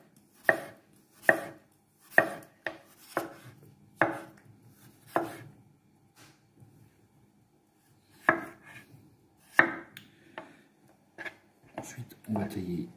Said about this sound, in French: on va tailler ces pommes de terre. Alors, on va faire des petites tranches